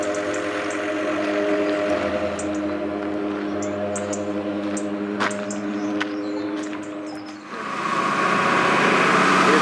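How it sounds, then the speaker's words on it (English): A tractor motor approaches along a country road on the Camino de Santiago between Sarria and Portomarin, its steady droning engine hum loud and growing, with birds chirping faintly around it. "Comes Mr. Tractor rolling down the way."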